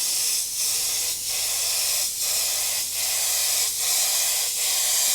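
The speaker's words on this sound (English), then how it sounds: "let the paint dry as you spray it on" An airbrush sprays paint onto a soccer ball in steady bursts of airy hiss, about six passes with brief dips between them, close and loud with no talk.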